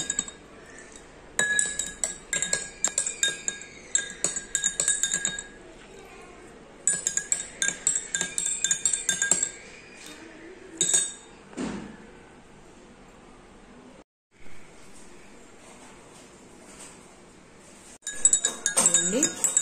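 A spoon stirring nannari sharbat in a glass gives quick, bright, repeated clinks in several bursts, with a short pause midway and a final round of stirring at the end.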